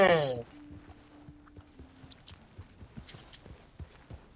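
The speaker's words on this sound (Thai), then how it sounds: "ม้าตัวเอกจะมาจอด" Horse hooves clip-clop in Red Dead Redemption 2, a steady run of soft, moderately close footfalls after a brief burst of voice at the start, with a faint tonal hum in the background.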